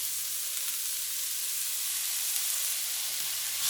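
Chopped white onions sizzle and fry in a pan for beef fried rice, a steady bright crackling hiss with faint stirring, close and continuous, with no talking.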